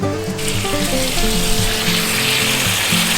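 Water from a hose or tap splashes and gushes steadily onto soil while watering a newly planted peach tree in a hügelkultur bed, a continuous close rush lasting a few seconds.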